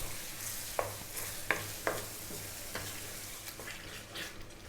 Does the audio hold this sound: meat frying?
yes